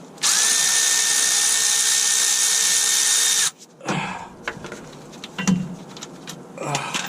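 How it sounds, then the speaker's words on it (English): A power tool spins up to a steady, loud whine while removing bolts on a Mercedes Actros truck, then stops and gives way to clanking metal and handling noises up close. "Right, so let's get these bolts out."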